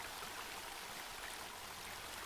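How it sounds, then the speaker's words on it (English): Water in a stream flows outdoors among trees and brush, a steady, even rush of broadband hiss that holds constant and fairly faint with no voices over it. "There's water flow over here."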